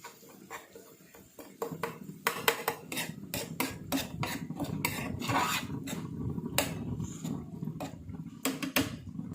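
A spoon scrapes and clatters against a pan while stirring a sardine curry with green chilli and curry leaves, making a quiet, irregular run of rasping strokes and metallic taps.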